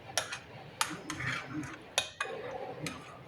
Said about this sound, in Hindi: जब तक ये बैटर मिक्स कर रही हूँ